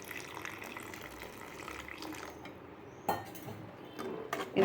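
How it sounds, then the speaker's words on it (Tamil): A little water poured into a pan of cooking pepper mushrooms, a soft splashing trickle and sizzle at low level, with a few brief clinks of utensils toward the end. "கொஞ்சமாக தண்ணி விட்டுக்கலாம்."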